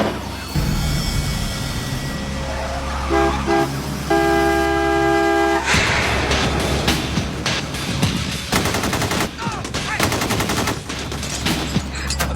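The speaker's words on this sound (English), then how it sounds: "Okay, he's firing. He just shot through his own window." Gunshots blast through a window in an action movie scene, a rapid cluster of sharp loud cracks following a car horn blare and street noise.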